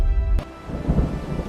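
Thunder rumbles heavily at the start of a storm, with one sharp crack, and then steady rain hisses and patters on surfaces, loud and close, with no voices.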